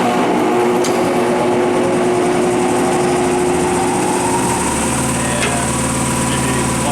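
A Scotchman CPO 350 circular cold saw runs on low speed with a steady mechanical drone. A shifting motor tone continues throughout, with no pauses, and a compressor may be adding to the constant hum.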